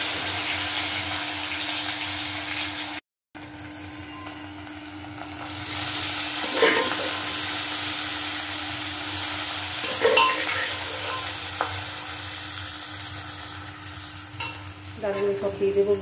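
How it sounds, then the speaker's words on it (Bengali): Dal (lentils) being tipped into a pan of frying spices and stirred, giving a steady sizzle with scraping stir strokes and soft clattering bursts near the end, no talking. "এবার ডালটা দিয়ে দেব।"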